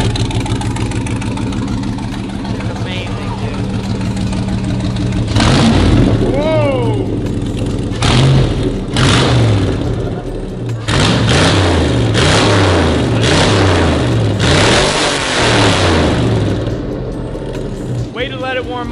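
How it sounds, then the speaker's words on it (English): An engine starts up and revs loudly several times in quick bursts, rising and falling in pitch, close by, with a brief pause between revs. "Turn the engine power on."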